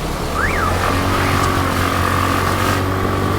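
A bus drives past on a busy Saigon street, its engine roaring loud and close in a steady drone with a brief rising whine, amid constant traffic noise.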